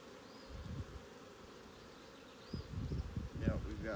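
Honey bees buzz steadily across a hive frame during a varroa mite alcohol wash inspection, a close, dense insect hum that swells louder in the second half with some handling noise.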